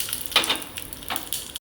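Mustard seeds, urad dal, a pinch of fenugreek and dried chilli sizzling in hot oil for a tempering, a close, steady hiss with brief crackling bursts and a faint stir, no talking.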